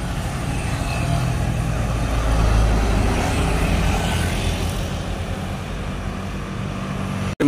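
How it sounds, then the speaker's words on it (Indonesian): A medium tour bus passes by on a road, its low engine rumble and broad tyre roar swelling to a peak, then easing off while staying steady and fairly loud, with no talking. "Melintas satu unit bus pariwisata medium."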